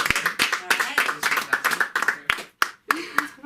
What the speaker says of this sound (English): Everybody clap it up for her.